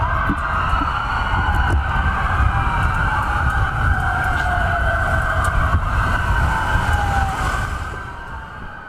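Several police car sirens wail together at close range in a procession, their pitches rising and falling and overlapping over a steady rumble of passing vehicles.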